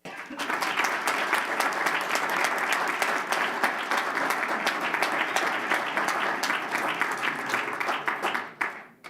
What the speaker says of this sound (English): please give me a round of applause for our President's Award recipient and Eastwood High School senior, Ryan James Solis